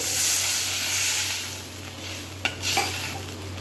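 Capsicum sizzles in a hot pan while water is poured in, giving a steady frying hiss with a brief clatter of a utensil against the pan, close and alone without voices.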